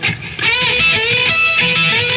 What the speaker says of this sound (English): I got my flanger set so it sounds like this.